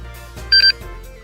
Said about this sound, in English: as soon as I put these terminals together, it reset the alarm